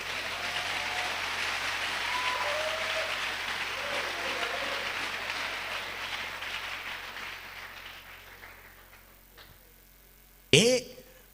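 A church congregation applauds in loud, sustained, dense clapping mixed with voices, gradually fading over several seconds before a brief sharp knock near the end.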